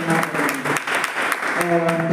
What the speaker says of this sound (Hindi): हम उसके लिए अभी ताली बजा देंगे